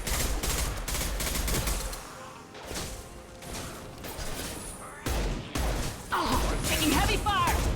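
Heavy gunfire in the sci-fi shooter Mass Effect 2, loud and continuous, with dense bursts and impacts across the whole stretch and a brief lull in the middle; speech is mixed in.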